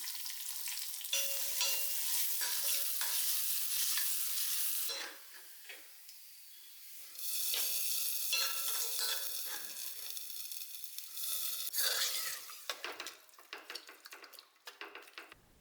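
Small shallots sautéing in coconut oil for a Kerala banana-stem and cowpea thoran give a steady close sizzle with stirring scrapes, easing to a quieter patch midway before flaring up again; no talking.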